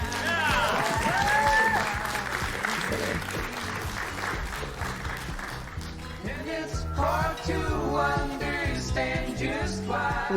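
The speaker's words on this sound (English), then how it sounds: "everyone give them a round of applause" Sustained applause from an audience at a broadcast production showcase, dense clapping that carries on steadily throughout, with music playing underneath.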